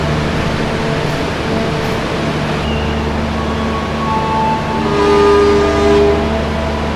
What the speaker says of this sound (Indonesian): yang masuk di jalur sana kereta api berantas teman-teman, dari Pasar Senen tujuan ke Blitar